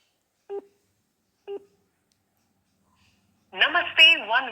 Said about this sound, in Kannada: ನೋಡಿ ಸ್ವಾಮಿ ನಾವು ಒನ್ ಒನ್ ಟೂಗೆ ಪ್ರಯತ್ನ ಮಾಡ್ತಿದ್ದೀವಿ